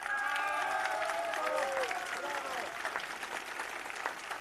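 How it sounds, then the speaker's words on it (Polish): Crowd applause at a live town meeting with residents in Gniezno, Poland, a dense steady clapping under a voice speaking Polish over a loudspeaker, with faint cheering mixed in. "Brawa dla pana prezydenta."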